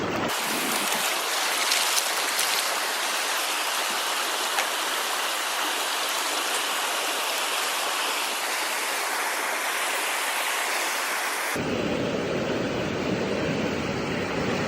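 Water sloshes and rushes steadily in a pan during gold panning, loud and continuous without a break, with a sudden shift in tone near the end.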